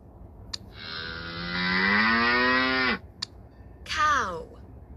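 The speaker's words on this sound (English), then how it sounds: "Cow." A farm cow lets out one long, sustained moo lasting about two seconds, loud and close, followed by a shorter falling call after a brief pause.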